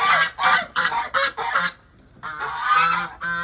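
Geese honking loudly and close by in a series of harsh calls around a farmyard bird pen where chicks wait to be fed, with a brief lull before a longer burst of honks.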